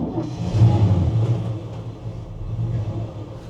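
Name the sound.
1966 Chevrolet C10 327 V8 engine starting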